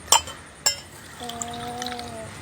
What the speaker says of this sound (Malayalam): ഗ്ലാസ്സിലൊന്ന് ഒഴിച്ച് കൊടുക്കാം